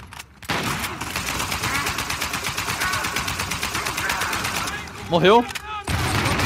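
Rapid bursts of automatic gunfire and explosions crackle in the Uncharted 4 video game, dense and continuous, with a short gap near the end where a player speaks briefly.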